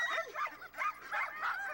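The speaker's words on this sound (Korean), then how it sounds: "며칠 만에 생선 냄새를 맡은 개들은 미친 듯이 짖으며 달려듭니다." Hungry Greenland sled dogs bark and yip excitedly at the smell of fish, several overlapping high, frantic yelps in quick bursts close by.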